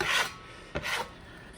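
A trowel spatula spreads Titebond waterproof glue over wood in two short scraping, rasping strokes, close and clear with no talk.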